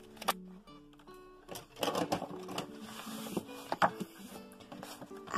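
Card being cut for a pop-up house card, heard as close, irregular cutting and rustling sounds with sharp scrapes over about five seconds.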